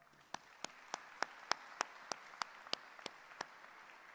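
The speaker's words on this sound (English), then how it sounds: "Let's give them a round of applause as well." Sparse applause at a dental school commencement: a dozen or so distinct, evenly spaced claps ring out in a steady rhythm over a faint, quiet room.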